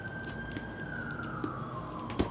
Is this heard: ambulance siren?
yes